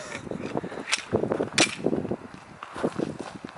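A new Glock 20 10 mm pistol firing several sharp shots at uneven intervals, each a crisp crack with short echoes and quieter rustling between them.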